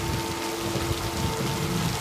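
Steady, dense rain in a horror story setting, pouring and pattering without a break; it is loud and close, with roaring wind and stinging downpour outdoors.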